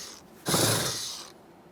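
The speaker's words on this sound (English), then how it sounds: "Go ahead and start them in and snug them up." A ratchet snugs up a 7mm mounting bolt on the rear left window regulator of a 2015-2020 Ford F-150, giving one close, steady burst of mechanical clicking that lasts under a second.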